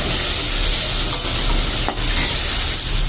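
Spice paste sautés in a pan with a splash of water, a loud continuous sizzle broken by a couple of soft scraping stirs, close and with no voices.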